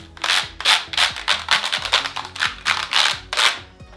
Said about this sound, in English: So here's my brush, right? So with the keyboard, what I do is I just